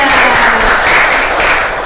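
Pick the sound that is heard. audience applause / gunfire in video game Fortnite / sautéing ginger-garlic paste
audience applause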